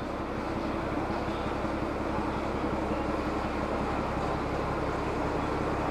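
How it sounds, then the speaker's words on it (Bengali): A Darjeeling toy train slowly backs up along the platform, giving a steady, dense rumble with a constant mechanical drone that holds even throughout, with no voices. "ছোট্ট ট্রেনটা দেখুন কত সুন্দরভাবে ধীরে ধীরে পিছিয়ে আসছে।"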